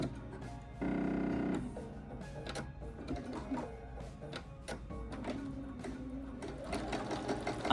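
Sewing machine top stitching fabric for a panel advent calendar, a steady mechanical whirring burst near the start followed by intermittent stitching runs, close and moderately loud with no talking.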